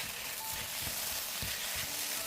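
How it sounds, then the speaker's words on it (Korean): Onions and Cheongyang chili peppers stir-fry in a seasoning sauce, a steady close sizzle with soft scraping stirs throughout and no voices. "중간쯤 볶아주다가 썰어놓은 양파와 청양고추를 넣어 다시 볶아줍니다"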